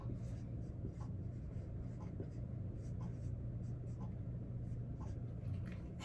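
Pen or marker drawing a diagram of a glomus cell on a board or paper, soft scratchy strokes in quick irregular bursts, faint and close over a low background hum.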